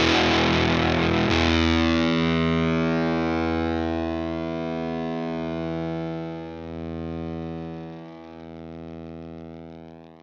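A guitar through a Tone Hungry Effects Fuzz Cream fuzz pedal: a loud, gritty sustained chord that decays slowly, wavering and thinning into a dirty, sputtering fade.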